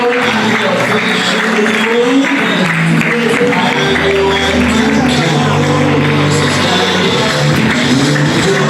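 A crowd at a college of education induction keeps up dense clapping with scattered shouts and a low hum underneath, a steady, fairly loud wash over the whole stretch.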